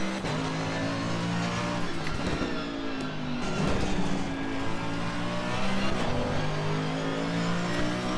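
A race car in the Assetto Corsa Competizione sim racing game drives on track, its engine droning and rising and falling through gear changes and throttle, loud and continuous with a brief tire squeal.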